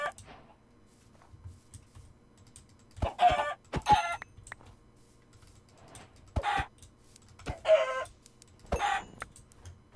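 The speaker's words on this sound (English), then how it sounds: "Chicken." Chickens in Minecraft cluck in short clustered bursts, several separate calls spaced across the stretch with quiet gaps between, over faint background clicks.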